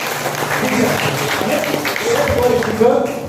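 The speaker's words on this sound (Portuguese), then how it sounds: "E a igreja pode aplaudir nessa noite" A church congregation applauds in a steady wash of clapping, with voices and cheering mixed in throughout.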